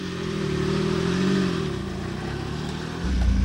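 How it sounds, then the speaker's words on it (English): Vintage Jaguar sports car engine on a joyride around the Beaulieu grounds, a loud, steady mid-pitched drone that swells slightly and deepens near the end. "it's off for a joyride round the grounds of Bewley, and I must say it's incredibly noisy"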